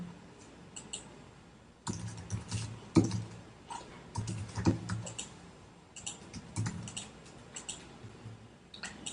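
Quiet, irregular clicking of a computer keyboard as a web domain is typed, keystrokes landing in short clustered runs with small gaps, and no voice over them.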